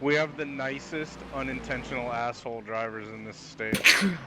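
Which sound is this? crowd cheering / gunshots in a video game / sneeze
sneeze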